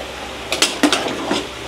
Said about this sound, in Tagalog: Tapos haluin lang natin ng kaunti yan